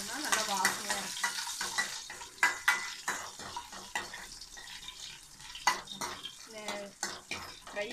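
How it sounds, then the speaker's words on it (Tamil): Cashews, raisins and cardamom frying in ghee in a pan, with soft sizzling and repeated stirring and utensil clinks against the pot, fairly close, with faint talk now and then. "முந்திரி கொஞ்சம் நல்லா ஃப்ரை ஆனதுக்கப்புறம் திராட்சை ஏலக்காய் நெய்யில் போட்டு வறுத்து போட்டோம்னா நல்லா வாசனையாக இருக்கும்."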